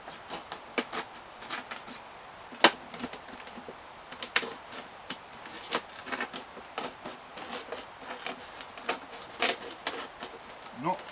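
Scissors snip through a plastic water bottle about halfway up, cutting nearly all the way round in a string of sharp, close crackling cuts and crinkles, with no talk.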